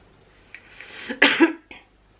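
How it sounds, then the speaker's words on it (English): A single person's cough, close and fairly loud, preceded by a short breath and a throat-clearing rasp, then a small trailing huff before quiet. "But yeah, I coughed."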